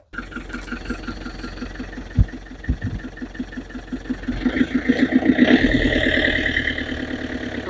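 A car engine idles with a steady, close throb, then swells in loudness as the car pulls away and keeps running. No one speaks.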